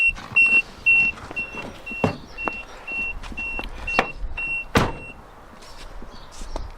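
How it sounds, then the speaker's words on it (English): A 2010 Peugeot 3008 1.6 HDi's electronic warning tone beeps in a regular series of short, high pips, alongside clicks and thuds of handling inside the vehicle. "a bit of beeping going on"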